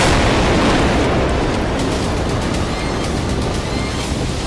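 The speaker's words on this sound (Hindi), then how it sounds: "इजराइल की बख्तरबंद गाड़ी को एंटी टैंक मिसाइल से टारगेट किया गया।" An anti-tank missile strikes an Israeli armored vehicle in a loud, sustained roaring explosion, a dense broadband rumble that fills the whole stretch without pause.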